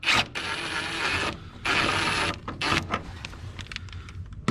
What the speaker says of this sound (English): First, I'm going to remove this big 18 mil main bolt.